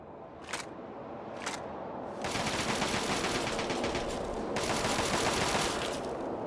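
Assault rifle fire in Fallout 3: two quick isolated shots, then sustained loud automatic bursts of rapid gunfire rattling close and continuous.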